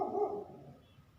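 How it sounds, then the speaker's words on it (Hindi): Dogs barking at night around a house, a short burst of barking that fades away, fairly faint and distant, with no talking. "ये जानवरों का भौंकना।"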